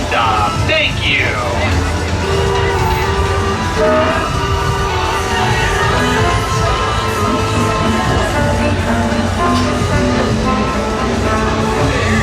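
Disneyland Railroad train rolling along with steady rumbling, clattering wheels and dense background crowd chatter, plus a brief whistle-like tone early on; loud and continuous throughout.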